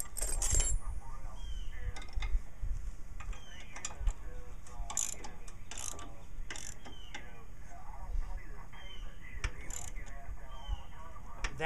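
A wrench ratchets while tightening a bolt on a 1968 Sears 10 XL tractor mower, with repeated metallic clicks and clanks over a steady background, close and fairly loud.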